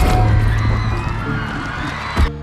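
Fans at a concert shout and cheer in a dense, loud roar that holds steady, with a sharp thump near the end before the noise cuts off abruptly.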